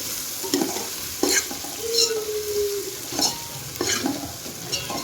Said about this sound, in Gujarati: અને આદુ પકાવી લઈએ આપણે